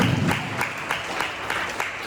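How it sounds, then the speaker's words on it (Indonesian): Audience applause at a stop-smoking health counselling session held by a community health centre, a short burst of steady clapping from a seated group that carries on evenly, fairly near and moderately loud. "Tepuk tangan dulu buat Bapak."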